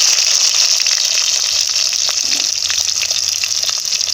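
Onions frying in hot oil with mustard seeds and chana dal for a manathakkali kai kulambu: a steady, loud, hissing sizzle that runs unbroken, close up, with no talking.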